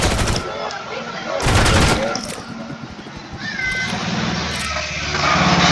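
Gunfire from the medieval action game Knightfall: A Daring Journey, with loud bursts of shots at the start and again near the two-second mark, followed by quieter mechanical clatter and a faint reload.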